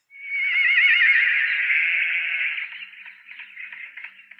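A horse in an old film lets out one long, loud whinny with a wavering, quivering pitch. It then tapers into softer, breathy snorting and nickering. No voices are heard.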